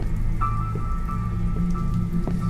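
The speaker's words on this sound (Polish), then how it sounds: "Jest ulewa." Heavy downpour in The Midnight Man indie horror game, a steady dense hiss of rain with scattered drops, continuous and loud throughout with low ambient rumble beneath.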